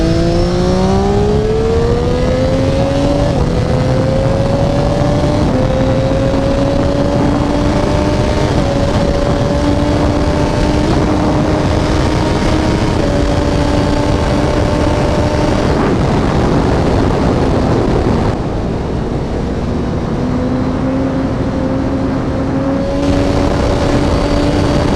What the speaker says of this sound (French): on est parti pour s'essayer sur l'autoroute illimitée